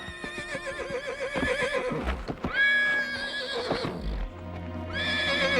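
A young mare neighs in a long, loud, wavering whinny close by, with hoof clip-clop and shuffling around it, then a second whinny rises near the end.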